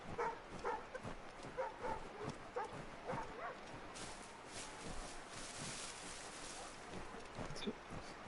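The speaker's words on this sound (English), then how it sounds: "Oh no, you're barking at me." A dog in Assassin's Creed 3 barks in a quick run of sharp, repeated yelps over the first half, then fades into steady outdoor ambience of wind and water with faint hoof-like clops.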